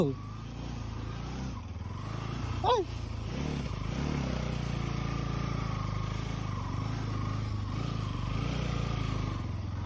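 A motorcycle rides off-road on a slippery muddy trail at Kunagalu Betta in Ramanagara, its engine droning steadily and revving at moments, with people talking over it.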